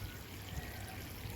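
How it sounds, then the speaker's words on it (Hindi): Water poured into a pot holding a papaya plant during repotting, a steady, soft splashing and trickling stream that runs continuously without pause. "अभी इस पॉट में पानी दिया जा रहा है।"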